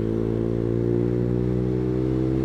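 A Honda CS1 motorcycle engine runs loud and close, holding a steady, deep droning hum without pause.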